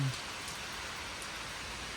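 Heavy, steady rain falling on a farm, a dense unbroken hiss of drops on surfaces, close and continuous with no voices over it.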